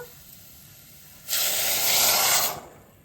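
Water poured onto jaggery in a hot pan, a sudden sharp hiss rising over faint background noise for just over a second before fading away.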